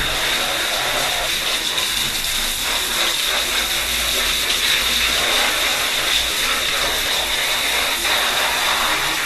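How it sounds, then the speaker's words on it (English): Loud, continuous hissing spray of a pressure washer blasting water onto a split air conditioner filter, steady and close throughout with no speech. "Let's blow water from the other side also."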